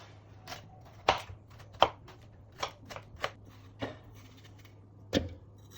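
A knife cuts watermelon into small pieces on a board to make milk juice. About eight sharp, separate chopping taps come at an uneven pace, fairly quiet against a low steady hum, with no voices.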